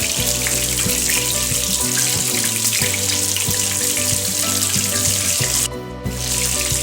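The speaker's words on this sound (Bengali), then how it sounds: "সব কাবাবগুলো আমি তেলেতে ছেড়ে দিয়েছি আর আগুনটাকে আমি মিডিয়াম করে রেখেছি" Mutton stick kebabs fry in hot oil over medium heat, giving a steady close sizzle and bubbling hiss with occasional pops and faint clinks, and no one speaking.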